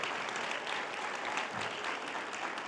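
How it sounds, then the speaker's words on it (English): Applause fills a school sports luncheon as Crest Hill Middle School winners are honoured: a dense, steady crowd clapping without a break, moderately loud, with no clear talk over it. "Let's give a huge round of applause for our Crest Hill Middle School winners"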